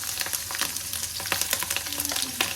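Long green chillies sizzling and frying in hot oil for dum aloo, a steady loud crackle with bursts of popping and spattering, close up, without any talk.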